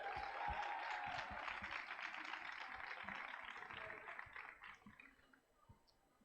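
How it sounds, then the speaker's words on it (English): An audience applauds young green changemakers at an awards celebration, a fairly faint, distant patter of many hands that gradually thins out and fades toward the end. "Let's give them a big applause."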